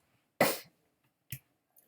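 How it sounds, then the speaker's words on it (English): A person coughs nearby: one strong, harsh cough, then a shorter, softer one, with the start of another at the very end, in an otherwise quiet room. "Nobody wants to hear me coughing."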